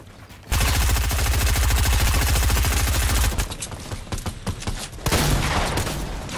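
Rapid automatic gunfire in the video game Fortnite, a loud sustained burst of shots followed by scattered single shots and a second volley, close and dominant.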